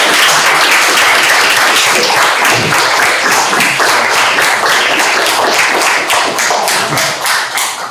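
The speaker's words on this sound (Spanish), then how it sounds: "Démosle un fuerte aplauso a nuestro." Close, loud audience applause at an academic lecture, many hands clapping densely and steadily before thinning slightly toward the end.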